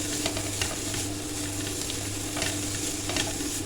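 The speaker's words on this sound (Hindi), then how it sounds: "अभी पहले हम अपनी वेजिटेबल्स को भूनेंगे" Vegetables stir-fried in a pan for chicken bread rolls and veg finger kebabs, a steady close sizzle with scraping stirring strokes at a regular rhythm, no voices.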